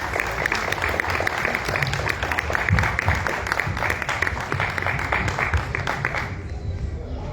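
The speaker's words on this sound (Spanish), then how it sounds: "Les pido amablemente que la recibamos con un aplauso." Audience at a book presentation applauding to welcome a speaker, a sustained round of many hands clapping at moderate volume that cuts off near the end.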